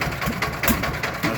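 An engine runs at a construction site with a low, fast rhythmic chugging pulse, steady and moderately loud over the short stretch.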